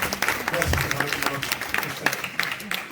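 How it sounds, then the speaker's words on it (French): Applause during a gathering around a meal, a dense patter of hand claps continuing steadily under murmured voices and chatter. "Tu peux applaudir l'action qui a été faite."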